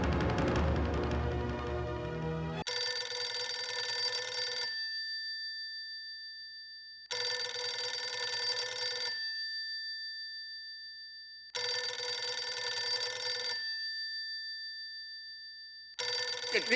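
A telephone rings in repeated bursts, each electronic ring lasting about two seconds followed by a pause, clear and close.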